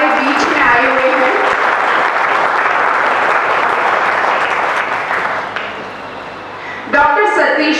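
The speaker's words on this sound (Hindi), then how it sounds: "सबसे पहले आप सभी की तालियों के साथ अभिनंदन करें" A seminar audience applauds steadily for several seconds, a dense wash of many hands clapping that thins briefly before a voice begins speaking at the end.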